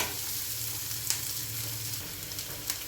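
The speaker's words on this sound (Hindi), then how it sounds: "तो प्याज़ों को भी मैं ज़्यादा सौते नहीं करूँगी, बस जितना ज़रूरत है उतना," Onions sautéing in a pan, a steady close sizzle and hiss of frying with a few faint scrapes and clicks of stirring, continuous and with no voices.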